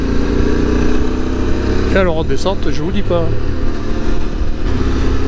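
A QJ SRT600SX motorcycle climbing a Pyrenees mountain pass on the Col d'Aubisque, its engine a loud, steady drone with wind rush throughout. Someone speaks briefly over it near the middle.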